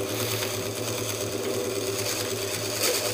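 Foot-driven treadle lathe turning a wooden powder box, a steady close whirring hum with a faint rhythmic pulse running unbroken throughout.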